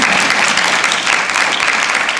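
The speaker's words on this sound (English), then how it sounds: "Please clap for that." Dense, even applause from a crowd at a Lavender Graduation ceremony, a continuous close wash of many hands clapping without a break, no speech over it.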